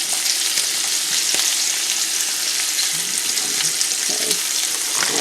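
Peeled, deveined Gulf shrimp sizzle as they brown in a pan for New Orleans-style shrimp and grits, a steady close frying hiss with occasional stirring and clinks.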